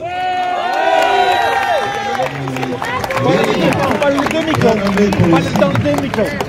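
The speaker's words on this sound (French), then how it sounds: "je vous demande de faire un tonnerre d'applaudissements" A large rally crowd in Nice cheers and applauds loudly and steadily, with shouts and whistles rising over dense clapping and babble throughout.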